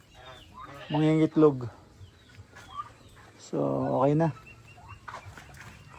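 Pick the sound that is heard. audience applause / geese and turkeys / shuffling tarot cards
geese and turkeys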